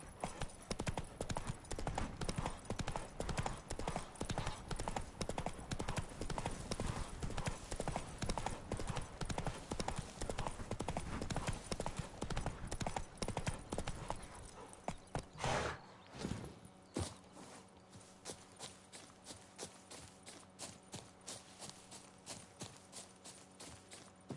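A horse's hooves clip-clop steadily at a brisk trot in the video game The Witcher 3, then slow to sparser, separate steps partway through.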